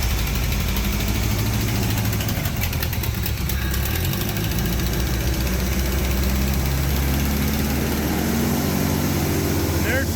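A Mustang skid loader engine runs at a rough, steady idle, loud and continuous throughout, with a voice talking over the low rumble.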